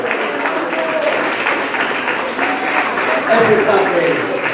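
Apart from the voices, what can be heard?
congregation applause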